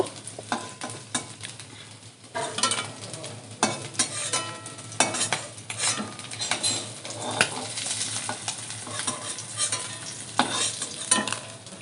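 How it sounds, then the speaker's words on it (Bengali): Sarpunti fish frying in hot oil in a pan, a steady crackling sizzle throughout with scraping stirs and occasional clinks of a utensil against the pan, close and fairly loud with no voices. "ভালো করে লাল লাল করে ভেজে নেব।"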